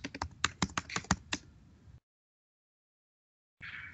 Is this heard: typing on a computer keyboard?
yes